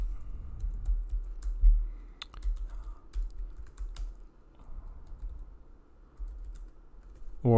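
Someone types on a computer keyboard nearby with irregular bursts of clicking keystrokes and brief pauses between them, and no one talks.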